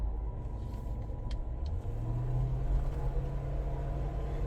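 A worn pinion bearing in the rear end of a 2010 Mercury Grand Marquis makes a steady low droning rumble under road noise while driving, rising slightly in pitch partway through, with no voices.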